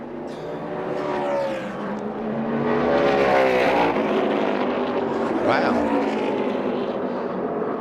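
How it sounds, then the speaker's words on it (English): A NASCAR race car at Phoenix suffers engine failure and roars loudly with a rising, ragged engine tone amid other cars, while a commentator exclaims over the noise. "That sounded like an engine failure, didn't it"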